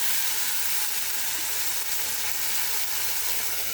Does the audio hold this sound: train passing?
no